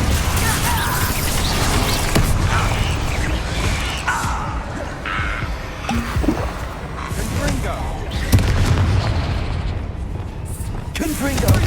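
Confringo and Bombarda spell blasts booming in Hogwarts Legacy amid combat, several loud crashes and thuds in quick succession layered over constant battle noise.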